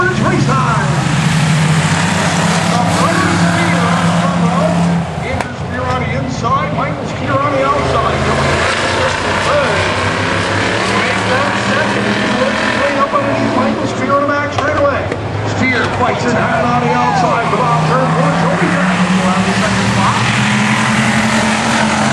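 Strictly stock race cars roar around Twin State Speedway in a heat, a dense, continuous engine drone with rising and falling passes that stays loud throughout. An announcer talks over the racing.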